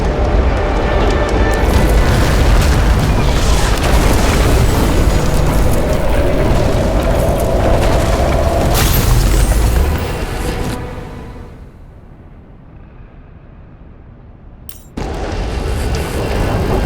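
A transformer explodes and catches fire in the game Nobody Wants to Die, a loud roaring, crackling blast that sustains for several seconds, drops to a quieter hum, then surges back abruptly.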